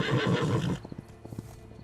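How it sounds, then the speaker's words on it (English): A horse whinnies loudly for under a second in the video game Witcher 3: Blood and Wine, followed by scattered hoof clops and light thumps at a lower level. "The horse is gonna run away, isn't it?"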